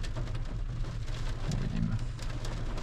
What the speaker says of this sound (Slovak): Začalo pršať